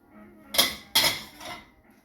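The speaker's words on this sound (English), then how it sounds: "these pans here were in the oven" Metal oven pans clatter and clank against each other in a few sharp bursts, close by, with quiet between the knocks.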